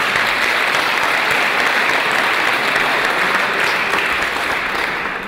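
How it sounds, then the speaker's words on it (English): A lecture audience at a security conference gives steady, sustained applause for a round of lightning-talk speakers, a dense even wash of many hands clapping that carries on without pause and fades slightly at the end. "let's just give all the speakers a round of applause"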